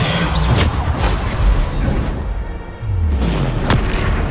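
Bombarda explosion spells blast in Hogwarts Legacy, a couple of deep booming bursts with rumbling debris. The explosions are loud and close and heard alone, without talk.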